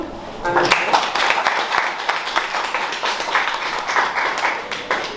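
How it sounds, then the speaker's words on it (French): A class at a Haitian forum on the new criminal procedure code applauds a group of presenters, with continuous close clapping from many hands that stays even throughout. "je demande à la classe de vous applaudir"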